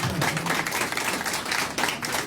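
Congregation applauding during a Spanish-language church sermon, a dense, steady patter of many hands at moderate distance, continuing evenly for a couple of seconds with no voices on top.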